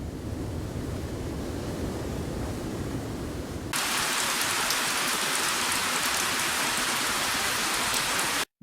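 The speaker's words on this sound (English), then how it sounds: "Downtown Los Angeles saw particularly heavy rain." Heavy rain pouring during atmospheric river flooding in Los Angeles, a dense, continuous roaring hiss that abruptly grows brighter and harsher partway through, with no voices.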